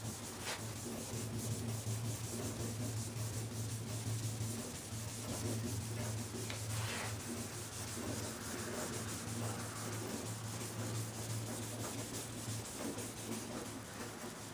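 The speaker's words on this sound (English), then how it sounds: "The weight of your hand, the block, and the sandpaper is going to do the job for you." Hand sanding with a sanding block and sandpaper during color sanding of a finish, a steady continuous rubbing scrape with slight back-and-forth strokes, close and fairly loud, over a constant low hum.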